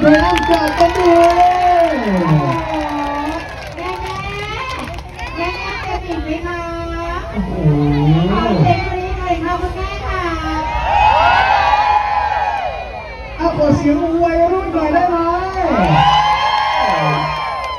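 Crowd cheering, whooping and shouting at a live stage show during a Chinese New Year festival by a riverside shrine, with children's voices among the loud, continuous sustained calls.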